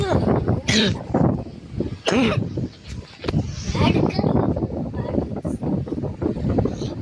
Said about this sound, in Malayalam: ചുമയായി ഗൈസ് ഭയങ്കര.